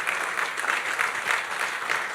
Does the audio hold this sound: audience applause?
yes